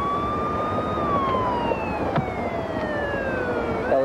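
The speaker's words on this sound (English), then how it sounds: "You better hit the siren." A loud police car siren wails in long descending sweeps over heavy engine and road noise during a chase, ending in a quick yelp.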